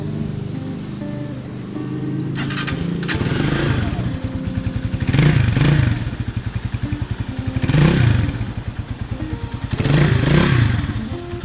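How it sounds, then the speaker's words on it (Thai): A 2017 GPX Legend 150 motorcycle in café styling, with stock engine and exhaust, idles nearby with a steady, fairly quiet thump. Three short revs swell and fade at regular intervals. "เครื่องยนต์เงียบมากนะครับ"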